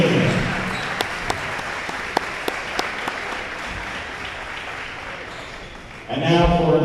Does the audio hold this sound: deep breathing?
no